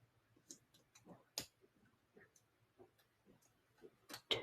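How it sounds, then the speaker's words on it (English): Small scissors snipping tiny strips of tape for a paper protein model, a series of soft, sharp clicks spaced irregularly, quiet and close with near silence between cuts. "You're going to use just the ends of your scissors, and you're going to make 1,"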